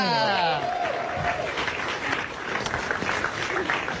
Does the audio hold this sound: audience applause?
yes